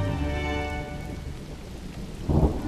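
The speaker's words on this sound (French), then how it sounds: "on entend l'orage qui gronde au loin" Steady rain pours down with low thunder rumbling far off. Near the end a heavier roll of thunder swells for a moment, and nobody speaks.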